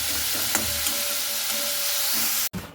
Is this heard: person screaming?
no